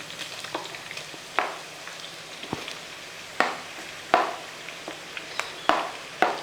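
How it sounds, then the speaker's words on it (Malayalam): Chopped onions fry in hot oil in a kadai, giving a steady soft sizzle punctuated by several sharp clinks and scrapes of a stirring spoon. "ഈ ഓയിലൊക്കെ ഒന്ന് ചൂടായതിന് ശേഷം ഈ അരിഞ്ഞ് വെച്ചിട്ട് സവോള അങ്ങോട്ട് ഇട്ട് കൊടുക്കുക"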